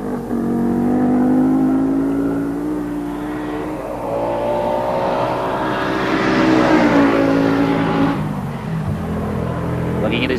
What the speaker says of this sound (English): 420 odd horsepower, turbocharged 5-cylinder Audi engine, hauling him up the hill in good style